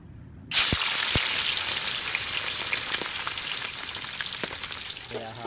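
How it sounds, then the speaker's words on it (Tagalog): Salted and peppered milkfish (bangus) for sisig frying in hot oil, a loud, steady sizzle that bursts in suddenly after a brief quiet start and crackles on without pause, with no talking. "At pagkatapos po yan ay piprito na muna natin mga kapares."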